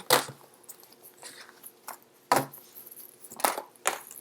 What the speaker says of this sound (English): So I'm going to get all the cards shuffled out before I start talking.